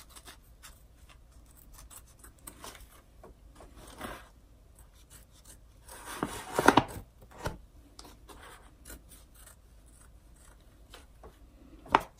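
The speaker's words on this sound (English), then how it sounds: "we're going to take our applique scissors and we're going to cut all the way around this now" Appliqué scissors snip and rasp through fabric in irregular short cuts while cutting out a stuffed gnome, with one louder cluster of crisp snips in the middle; no talking.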